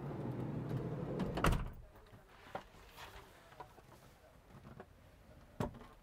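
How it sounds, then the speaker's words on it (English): Campervan door slides shut with a loud thud after a stretch of low rumble, then a few light knocks and clicks follow, ending with another sharp knock. "Close the door again."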